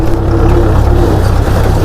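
A farm tractor idling in a Pakistani village: a loud, steady engine drone with a low throbbing rumble that continues unbroken and close, with no talk.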